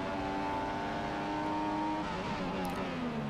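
Formula 1 race car engines in the F1 2015 racing game roar steadily at high revs for the whole stretch, with a pitch shift as the car drifts wide through a corner and another car's engine close by.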